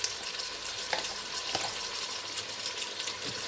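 Mutton with ginger-garlic paste frying in a pan for biryani, a steady broadband sizzle with occasional stirring scrapes, close and continuous with no talk.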